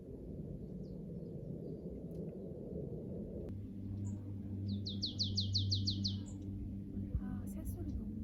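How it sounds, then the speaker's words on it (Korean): Birds chirp around a campground near Seoul, a clear run of rapid repeated tweets standing out midway over a low steady rumble, with a few fainter calls scattered before and after. "아, 새소리 너무 예쁘다."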